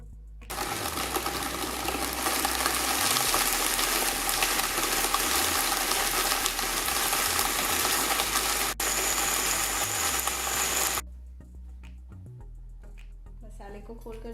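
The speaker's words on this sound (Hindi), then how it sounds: "अब मसालों को थोड़ा कूट कर छोटे पीसेस में कर लेते हैं और फिर ग्राइंडर में" An electric grinder pulverizes whole garam masala spices, roaring loudly and continuously for about ten seconds before cutting off abruptly, with a quieter background left afterward.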